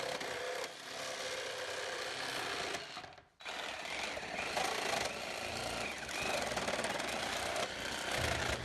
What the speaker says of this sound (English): and just sawing right through the nails.